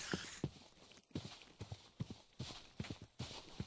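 Horse hooves clip-clop steadily in the video game Minecraft, an even walking rhythm of distinct hoof hits over a quiet background with a faint high tone.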